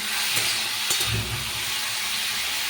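Food frying over a high flame in a home kitchen, a continuous broad sizzling hiss with a couple of soft clinks, steady and fairly close.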